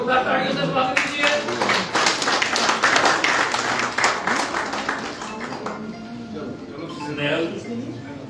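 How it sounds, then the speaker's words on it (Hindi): Audience applause welcoming guests at a BJP felicitation ceremony for freedom fighters in Jammu and Kashmir, a sustained wash of many hands clapping that swells then fades, mixed with a speaker's voice over a loudspeaker. "जोरदार तालियों से स्वागत कीजिए।"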